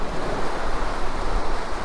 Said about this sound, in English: the tide's coming rocketing in